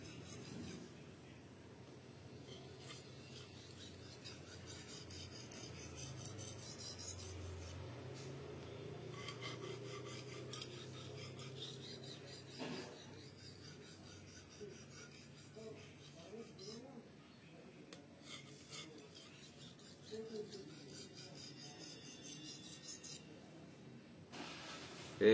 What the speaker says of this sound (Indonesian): Kita asahnya cukup.